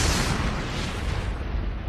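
Broad, sustained roaring rumble of an asteroid impact explosion releasing hundreds of megatons, a loud continuous blast filling the whole short stretch without any talk.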